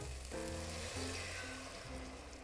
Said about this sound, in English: Once you hear that kind of sizzle a little bit, you want to get your white wine.